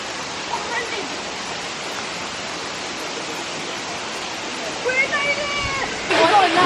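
Steady roar of a waterfall in Thailand, a loud broad rush filling the whole stretch, with people talking over it near the end.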